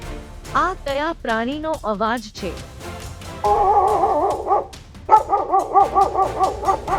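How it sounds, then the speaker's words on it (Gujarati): A dog barking in quick, loud bursts, first a cluster of several barks, then a rapid rhythmic run of barks close to the listener, following a short spoken question. "આ કૂતરો છે."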